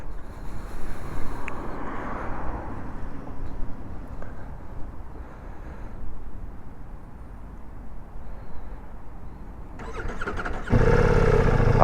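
A Ducati Multistrada V4S with its V4 engine starting, first a low mechanical rumble and whir from the machine, then near the end a sudden louder burst as the engine catches.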